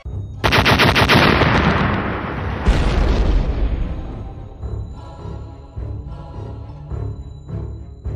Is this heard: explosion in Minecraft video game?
yes